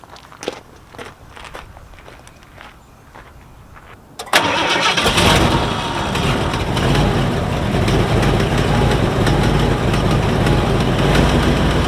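After some clicks and fumbling, a Ford Econoline Club Wagon van with a new transmission cranks and fires, then settles into a steady, loud rumbling idle that continues to the end.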